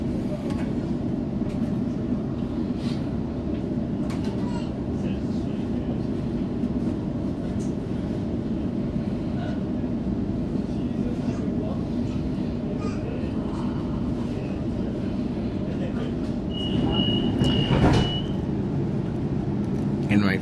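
A Waratah Series 2 electric passenger train, set B2, rolls into Clyde station with a steady, moderately loud rumble and hum throughout, a brief higher whine near the end, and speech faintly present underneath.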